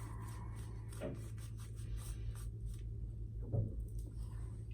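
A Muhle R41 safety razor fitted with an Astra blade scrapes over lathered skin in two brief, soft strokes, set apart by a few quiet seconds against a low steady room hum.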